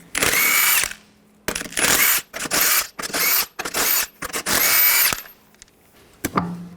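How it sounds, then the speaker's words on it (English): Impact gun with a 22mm socket spinning lug nuts off a 2013-2022 Buick Encore rear wheel, in several loud, close bursts with short pauses between, ending with a brief final burst. "Using a 22mm socket, take the lug nuts off."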